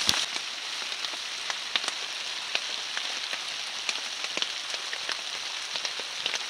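Steady downpour of heavy rain drumming on a surface at a log cabin build site, dense patter with occasional sharper drips, constant and fairly close, no voices.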